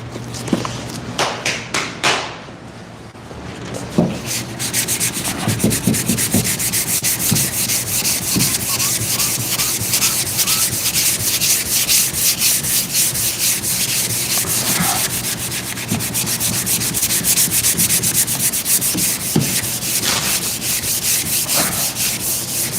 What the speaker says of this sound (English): So I gotta sand this little spot too.